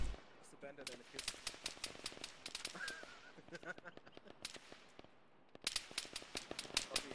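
Rapid gunfire rings out in Arma 3 combat, with dense bursts of sharp shots and brief gaps in between, while voices talk over the shooting on radio.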